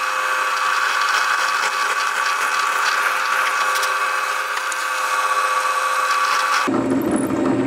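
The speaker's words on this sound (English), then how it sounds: "we're going to drill some holes" A power drill bores holes through a wooden table while building a tape loom, a steady, loud, continuous whine with grinding bit noise that cuts off abruptly near the end.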